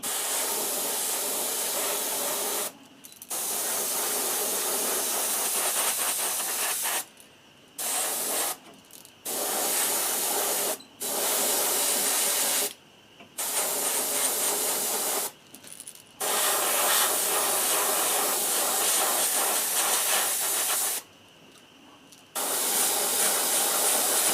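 An airbrush or spray gun lays an opaque white base coat onto a crankbait fishing lure, heard as a close, steady hiss in long bursts broken by short pauses, with no voices.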